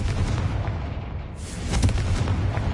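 A Confringo blasting spell in Hogwarts Legacy bursts with a low rumbling boom, followed by a second swell of crackling blast noise.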